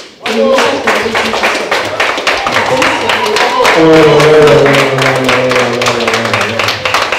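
Steady, dense clapping from an audience at a Paris presentation of a Central African Republic music single, loud and continuous throughout, with a tonal musical or vocal layer and talk rising underneath midway.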